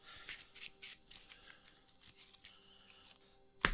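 A deck of playing cards being shuffled by hand, a series of soft papery riffles and rustles at close range, quiet overall, ending with a brief sharp knock.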